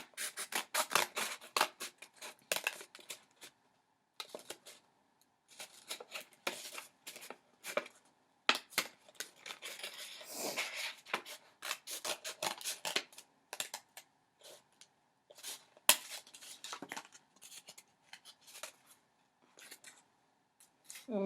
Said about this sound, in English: it's okay to cut off these excess parts because you can use those for other parts of your bat